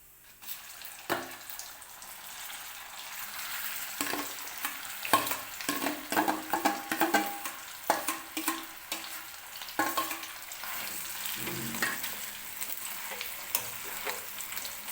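Potato pieces dropped into hot oil with cumin, frying and being stirred in a pan, a continuous sizzle broken by irregular scraping and stirring clatters, close and moderately loud.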